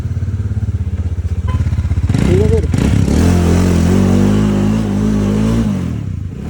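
A motorcycle engine idles and then revs up, holding a loud, steady rumble up close while someone speaks briefly over it.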